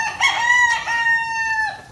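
A single rooster crows once, close and loud. The cock-a-doodle-doo is clear and tonal, with a sustained, wavering ending, and there is no talk.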